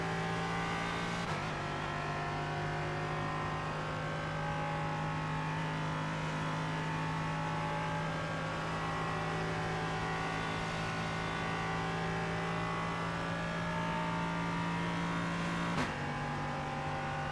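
An LMP3 prototype race car with a Nissan V8 engine holds a loud, steady high-revving drone in a racing video game, broken by two quick gear shifts near the start and end.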